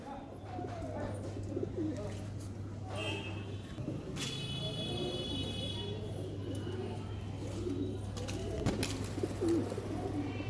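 Soft, low coos from highflier pigeons repeat steadily at close range, a continuous murmuring drone with a few brief higher chirps and rustles on top.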